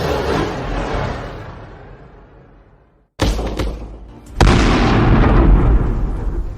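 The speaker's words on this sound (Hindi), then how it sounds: "यही वारहेड दुश्मन मिसाइल या रॉकेट के पास जाकर फटता है और उसे तबाह कर देता है।" A missile warhead exploding near an enemy rocket: a booming blast fades out, then a sharp second detonation and a third heavy burst with a rumbling tail, loud and close.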